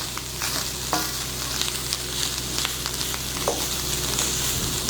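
A spoon stirring and breaking up a bacon mixture frying in a pan, steady loud sizzling with intermittent scraping and clinks of the spoon against the pan, close up.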